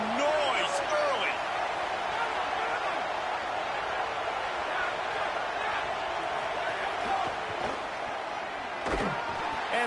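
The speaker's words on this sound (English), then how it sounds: "This crowd bringing the energy and noise early" Stadium crowd in a college football video game, Michigan vs Oklahoma: a dense, steady roar of fans holds throughout at full strength, with occasional sharper shouts and thuds poking through.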